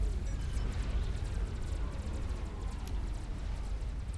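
A big explosion in the real-time strategy game Supreme Commander, heard as a dense, loud, rumbling roar that holds steady for about four seconds with no voices.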